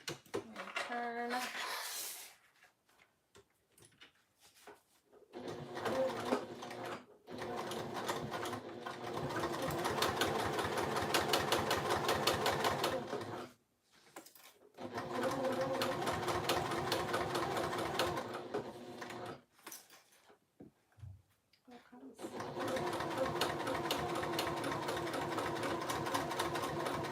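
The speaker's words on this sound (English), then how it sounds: "Back stitching again at the edge, turn it." A sewing machine back-stitches a fabric pouch, running in long steady stretches of rapid needle chatter separated by brief stops where the work is turned.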